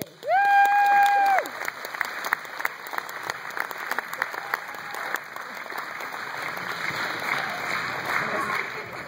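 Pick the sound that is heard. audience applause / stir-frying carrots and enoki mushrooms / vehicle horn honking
audience applause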